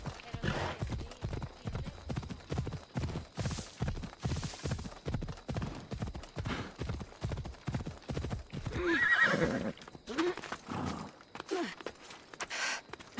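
A horse in the video game Assassin's Creed Odyssey gallops with steady rhythmic hoofbeats, then lets out a loud neigh near the end, with game sounds under it.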